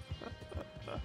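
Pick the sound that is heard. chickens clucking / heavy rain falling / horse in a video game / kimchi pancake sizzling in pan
horse in a video game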